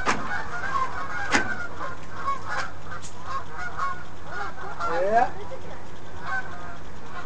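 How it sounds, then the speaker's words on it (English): Canada geese honking repeatedly outdoors, several calls spread through the stretch at moderate distance, with a man's brief remark over them. "Canadian geese."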